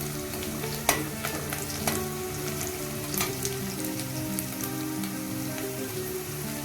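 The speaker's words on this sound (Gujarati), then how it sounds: "તેલમાં આપણે એકદમ કલર બદલી જાય ત્યાં સુધી ચડવા દેવાની છે ડુંગળીને" Onions frying in hot oil as the base for a masala dosa filling, a steady soft sizzle with occasional sharp pops and crackles, close and fairly quiet, with no voices.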